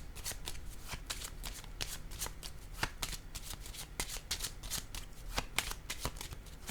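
A deck of playing cards is shuffled over and over, close and crisp, with rapid repeated riffles and snapping card flicks in a busy, irregular rhythm.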